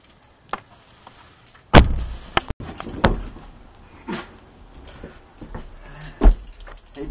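A door thudding and clattering in a few sharp knocks and bangs, one heavy slam near the middle, with lighter taps and rattles around it in an otherwise quiet room.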